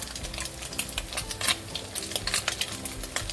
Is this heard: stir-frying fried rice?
yes